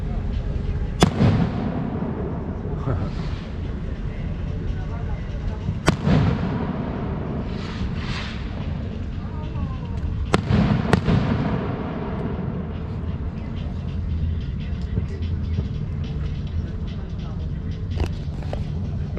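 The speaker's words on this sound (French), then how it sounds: "il y a des jeunes qui balancent des pétards." Several loud, sharp firecracker bangs at irregular intervals, each ringing out with a long echo off mountains, over a constant low rumble of outdoor noise.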